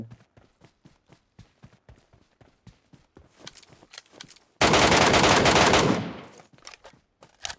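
Gunfire in the mobile shooter PUBG Metro Royale: a run of sharp single shots at a steady pace, then a dense, loud automatic burst lasting over a second, followed by scattered quieter shots.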